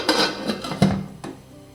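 A metal lid clanks down onto an idli steaming pot holding ragi kali with a few short clattering knocks, close by, followed by a brief ringing rattle.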